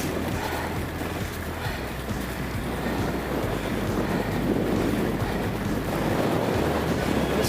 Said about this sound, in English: The wind has turned around and has started blowing down the valley.